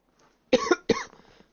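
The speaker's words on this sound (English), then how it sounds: "Apologies for the coughing." Two sharp coughs in quick succession, close and loud, from a commentator during a live broadcast of the 2025 Brazilian Grand Prix, with quiet before and after.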